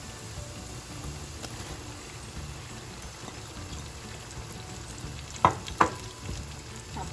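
Meat and cabbage for Pangasinan pigar pigar fry in a pan with a continuous low sizzle, then a couple of sharp spatula scrapes as the mixture is stirred.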